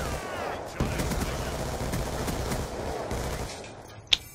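Rapid gunfire bursts in the first-person shooter Black Ops 2 during an online match, dense and continuous over game ambience, with a sharp louder shot near the end.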